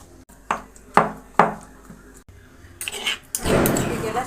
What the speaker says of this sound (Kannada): ಇದನ್ನು ಈ ಕಲ್ಲೊಳಗಡೆ ಹಾಕ್ಬಿಟ್ಟು ಸ್ಮ್ಯಾಶ್ ಮಾಡ್ಕೊಳ್ಳೋಣ ಈ ಥರ